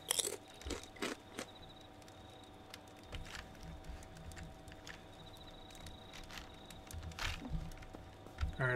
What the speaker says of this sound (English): Some crunchy ass chicken.